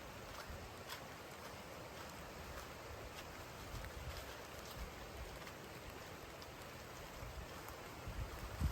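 Steady rain hisses continuously at moderate distance in Shawnee State Park, Ohio, an even wash of patter with no voices or breaks.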